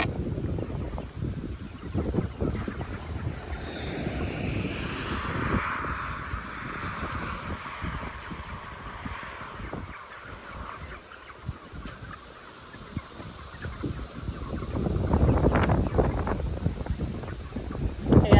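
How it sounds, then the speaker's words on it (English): Steady wind rushes and buffets the microphone throughout, gusting louder near the end, with faint rustling underneath. "Storm moving in. It's a little windy"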